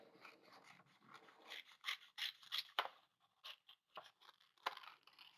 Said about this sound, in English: we're going to at least try cutting this part out